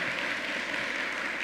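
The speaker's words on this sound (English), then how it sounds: "now let's give her another round of applause for our greatest Southern." An audience at a bill-signing event applauds in a brief, steady burst of dense clapping with no voices over it.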